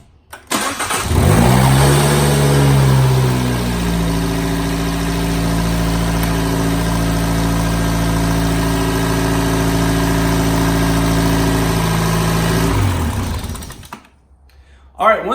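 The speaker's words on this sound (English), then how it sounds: "we're gonna go ahead and fire up the engine" A Fiat 500 Abarth engine cranks and catches, revs briefly, then settles into a steady, close idle before shutting off near the end.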